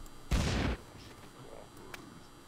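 A grenade explodes in the video game Postal III, one loud, close burst of blast and gunfire lasting under half a second before fading into quieter game ambience with a faint voice.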